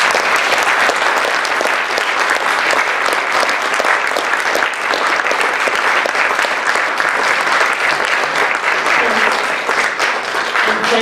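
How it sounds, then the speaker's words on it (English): At an Arctic science ministerial side-event panel discussion, the audience gives the panelists a loud, sustained round of applause, with dense clapping that stays even for about eleven seconds. "Let's give them a round of applause for all of their"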